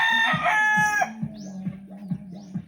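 A backyard chicken clucks repeatedly in short, close, rhythmic bursts, with a brief higher crowing call at the start, heard alone without talk.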